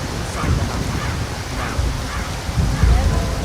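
Heavy rain pours steadily in Skyrim with a low rumbling wash, loud and continuous, with faint voices murmuring beneath it.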